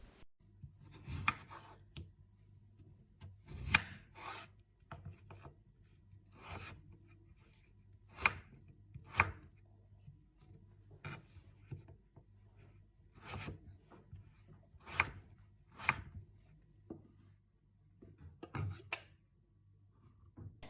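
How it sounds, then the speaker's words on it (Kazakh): Potatoes chopped to medium pieces with a knife on a board, heard as a dozen or so sharp, separate cuts at an uneven pace, each a close, crisp knock with quiet pauses between. "картопты алып, оны орташа етіп турап аламыз"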